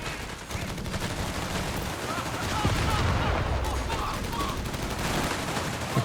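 Dense machine gun fire and scattered shots from a Company of Heroes 3 1v1 match rattle on steadily throughout, with a voice talking over the battle.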